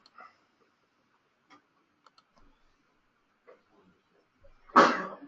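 A single sharp sneeze bursts out near the end after a stretch of near silence with a few faint ticks and clicks.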